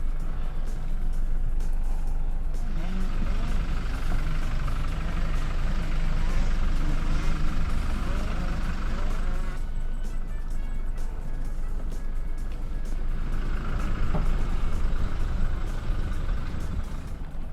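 A 2020 Toyota Hilux pickup with a mechanical rear locker engaged drives forward off-road, its engine droning and rising at close range while someone talks over it.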